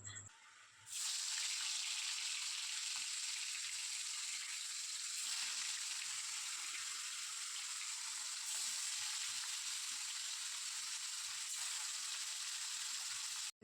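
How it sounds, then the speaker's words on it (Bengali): Pieces of katla fish rubbed with salt and turmeric slide into hot oil and burst into a loud, steady sizzle that holds at an even level, close and continuous. "এবার মাছগুলো আমি সব তেলের মধ্যে ছেড়ে দেবো"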